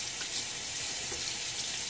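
A tap running to rinse after a shave, a quiet, steady stream of water splashing into a sink for a brief moment.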